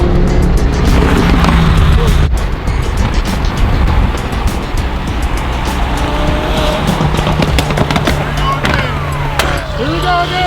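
Lamborghini engine revving hard through a tuned exhaust, a loud sustained roar with rising and falling pitch sweeps and sharp crackles, close and dominant, with a voice faintly underneath.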